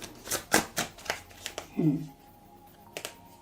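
Tarot cards are shuffled and drawn by hand, giving a series of crisp snapping flicks and riffles close by, with a brief voice murmur partway through.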